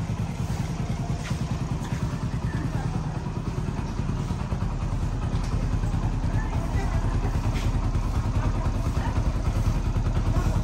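A motorcycle engine idling close by on a foggy day, a steady low rumbling chug that runs throughout while people talk over it.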